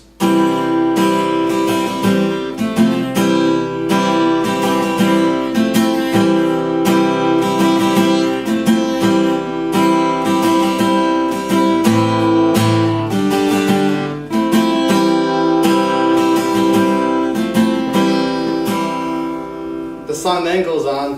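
Strummed guitar chords of a verse from a song played in a steady repeating rhythm, full and loud, continuing for a long stretch with no voice.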